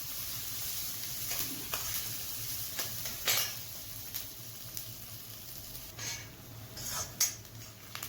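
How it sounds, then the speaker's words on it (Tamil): Onion, curry leaves and green chilies sauté in a pan with a steady close sizzle, broken by scattered scraping stirs and light clinks of a spoon against the metal, as part of an eggplant curry. "எல்லாத்தையும் சேர்த்து நல்லா வதக்குங்க."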